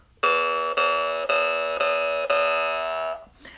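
A Pokin harmonica played with the tongue centered and no technique, giving a bright, bell-like chord repeated five times in steady pulses before fading out, with no talking.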